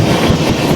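Bhubaneswar Superfast Express rolling on the rails, a loud, close, continuous rumble with faint wheel clatter throughout the brief moment.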